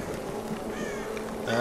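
A crow caws in the Tomb Raider game, a few harsh calls rising over a steady wash of ambient game noise, with a louder burst near the end.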